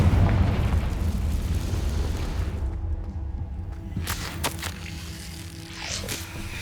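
Confringo fire spell from Hogwarts Legacy gameplay: a heavy rumbling blast with a fiery roar that dies away into quieter debris, followed by a few sharp cracking pops.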